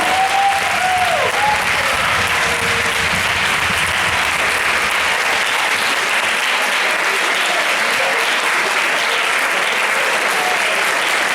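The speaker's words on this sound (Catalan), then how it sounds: "Sisplau, un fort aplaudiment per l'Institut de Vilamajor" A large audience at a school theatre showcase in Llinars del Vallès applauds steadily for several seconds, with a brief shout or voice early on, the clapping thinning slightly toward the end.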